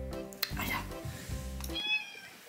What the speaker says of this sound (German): Und die fängt instant an zu miauen, das ist es.